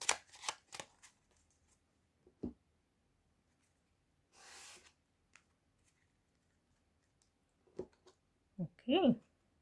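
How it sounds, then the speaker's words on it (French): Lenormand cards are shuffled and cut on a table in a few soft, brief riffles and taps, separated by quiet gaps, with faint breathing and rustling nearby. "on va voir ce que nous disent les cartes de Mademoiselle Lenormand. Ok, on va faire ça avec une coupe"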